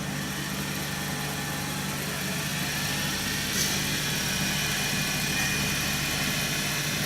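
A wood lathe spins near 4,000 RPM, giving off a steady, even motor hum with a light vibration that runs unchanged for about seven seconds and ends in a brief tick.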